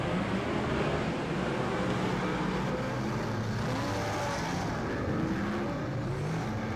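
Superstock race cars lapping a Huntly track in a big final, engines roaring and droning continuously in a dense, steady wash of revving at mid distance.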